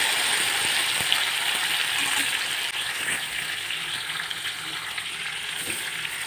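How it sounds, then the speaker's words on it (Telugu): Masala frying in oil for stuffed chilli and brinjal curry, a continuous close hiss and crackle with faint intermittent stirring scrapes, steady throughout and without speech. "ఈ మసాలాకి ఒక 2 నిమిషాలను కూడా ఆయిల్లో వేసేసుకొని"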